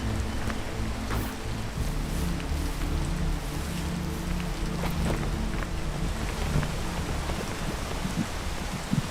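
Steady rain in the video game PEAK patters over a constant hiss, with scattered drops and a low rumbling background throughout.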